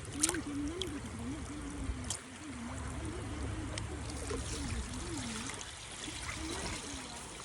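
Cold, clear stream water trickles and gurgles steadily at a creek while fish are washed outdoors, a continuous close babble with a faint tonal hum running underneath.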